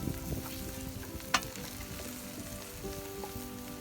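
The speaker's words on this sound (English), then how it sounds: "I've got the frying pan with our fresh garlic, and I'm adding spinach and plantain into this one" Fresh garlic, spinach, plantain and purple sprouting broccoli leaves sizzle quietly in a frying pan, a soft continuous crackle with a faint clink of a utensil partway through.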